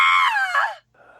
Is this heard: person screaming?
yes